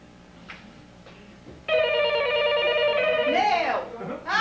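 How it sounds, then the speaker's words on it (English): A telephone bell rings loudly and steadily for about two seconds in a sitcom scene, with a brief voice or ringing tail after it and faint background sounds before the ring starts. "Now, answer the phone"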